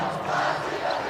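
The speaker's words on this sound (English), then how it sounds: "Crowd yelling behind us for a jump ball." A basketball crowd at a girls' high school state quarterfinal yelling for a jump ball, a loud, continuous roar of many voices filling the gym.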